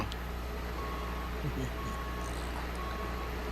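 Repeated electronic reversing beeps sound as a car backs up in Grand Theft Auto V. The beeps are steady and evenly spaced at moderate volume, with a low engine hum running underneath.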